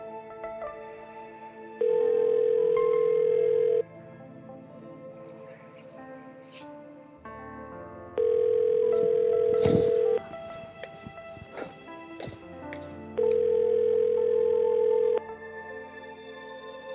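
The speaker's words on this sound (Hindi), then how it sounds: "यार फोन भी नहीं उठा रहा है ये।" A phone ringback tone repeats three times, each long tone separated by pauses with faint background noise and shuffling between them.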